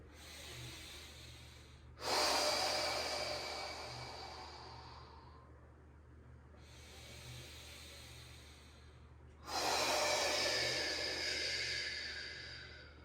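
Slow, deep breaths drawn in and let out during a yin yoga pose such as downward dog or child's pose, two long airy inhale-exhale cycles close to the microphone.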